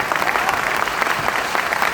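An audience at a mushaira and kavi sammelan poetry gathering claps steadily, a dense, even wash of applause that holds at moderate loudness throughout.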